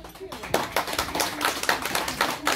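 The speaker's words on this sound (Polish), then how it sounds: "Wielkie brawa." A live audience applauds after a stand-up performance by Marcin Wróbel, with brisk, moderately loud clapping that continues steadily throughout while a voice talks over it.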